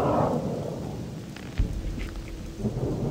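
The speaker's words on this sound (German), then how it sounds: "Ich setze zwei Blitze ab." A lightning spell in Gothic 2 cracks with a low thunder-like thump, set over a steady rumbling, rain-like bed of game ambience.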